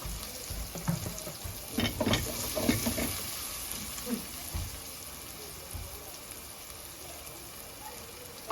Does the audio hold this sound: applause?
no